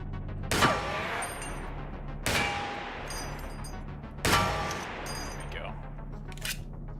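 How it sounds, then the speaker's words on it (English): Three sharp gunshots ring out at a turret in Receiver 2, spaced about two seconds apart, each followed by a decaying echo and metallic clinks, with a faint ding near the end. "Find a safe spot to shoot that turret from."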